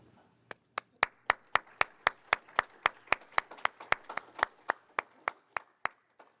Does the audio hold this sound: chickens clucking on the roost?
no